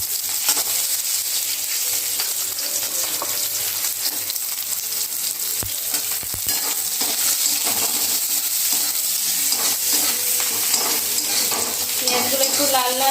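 Chopped onions sizzle steadily in hot oil already seasoned with whole cloves, cardamom and cinnamon, a continuous loud frying hiss with faint stirring clinks, no voices, while a matar paneer curry cooks on a home stove.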